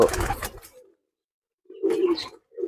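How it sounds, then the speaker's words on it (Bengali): Two short bursts of low, throaty pigeon cooing close by, separated by a moment of silence. "এগুলো পাল্লা লাইনের কবুতর"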